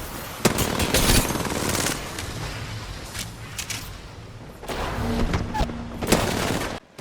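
Gunfire in a shooter video game, with repeated bursts of shots near the start and again toward the end and a quieter stretch of game noise between, all fairly loud and with no talk.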